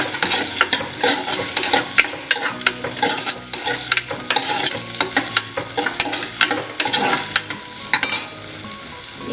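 Garlic and small shallots sautéing in a pan for a Kerala fish curry, with steady close sizzling frying and repeated scraping, clinking stirs of a spoon against the pan throughout.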